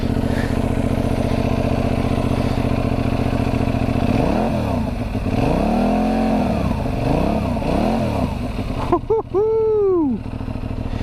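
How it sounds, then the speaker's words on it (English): A Benelli Leoncino 800 motorcycle idles with a deep rumble, then revs up and down several times in sharp swells, ending with a couple of quick high blips. "I've got to let you listen to how good this bike sounds"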